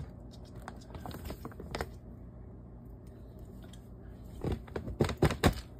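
A woven rice bag being opened by pulling its stitched thread, a run of small crisp ticks and rips, faint at first, then a louder cluster of tearing snaps near the end.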